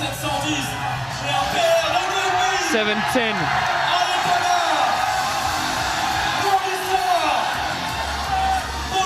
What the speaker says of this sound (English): You can hear the crowd yell